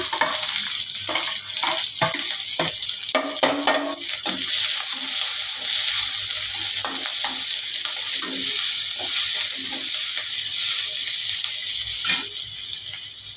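Onions and green chilies fry in a pan of oil with a steady, close sizzling hiss, broken by light stirring scrapes and clinks throughout.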